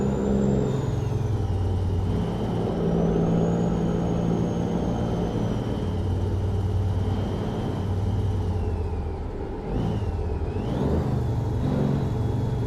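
A Western Star truck engine in American Truck Simulator drones and rumbles as it revs, the whine falling and rising again through a gear shift, with steady road noise underneath.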